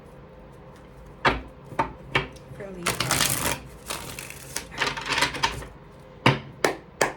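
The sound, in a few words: shuffling tarot cards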